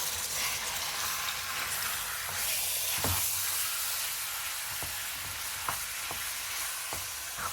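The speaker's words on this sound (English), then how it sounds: "Get a pan going with 2 tablespoons of oil and a tablespoon of ghee. Throw in around half a kilo of minced meat, I'm using mutton today" Half a kilo of minced mutton frying in a pan with oil and ghee gives a continuous close sizzle, broken by soft scraping taps as the meat is stirred and broken up.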